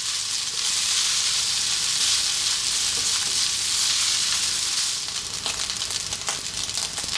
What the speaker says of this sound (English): That's our rice frying there.